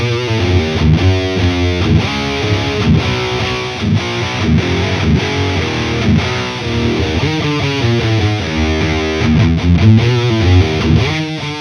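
Heavily distorted electric guitar riffs through a miked cabinet, recorded with ribbon microphones including an R84, loud and close, with chugging palm-muted rhythms and sustained chords, no voices.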